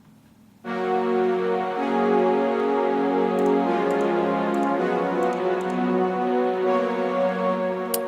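A sustained synth pad chord swells in, airy and reverberant with a filtered, thinned low end, holding steady for several seconds with no voices.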